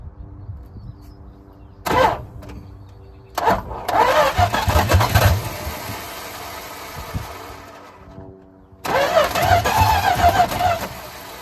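A Dodge D200 truck with a worn starter cranking in several bursts: a short grind, another attempt, then a longer labored churn, a pause, and a final strained cranking run, close and fairly loud.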